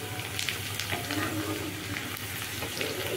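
Onions frying in a pan for a mutton curry, a soft steady sizzle with faint stirring scrapes, moderately quiet and continuous.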